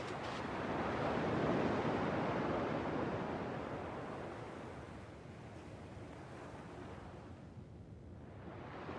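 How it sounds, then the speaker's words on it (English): Ocean waves from the video game Kingdom Hearts 2 wash in with a broad, steady surf roar that swells early and then eases off, heard alone without voices. "At least the waves sound the same."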